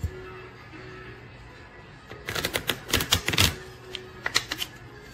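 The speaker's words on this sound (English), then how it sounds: "So I'm going to, like, shuffle these up good." A quick burst of crisp riffling clicks as playing cards are shuffled close by for coin pusher poker, followed by a few scattered snaps and taps.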